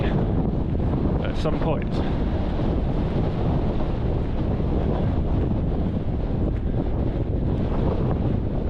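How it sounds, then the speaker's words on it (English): Strong wind buffets the microphone at a mountain viewpoint in Tromsø, a loud constant roar throughout with a voice faintly audible underneath. "I'm not sure how much you're going to be able to hear with all the wind"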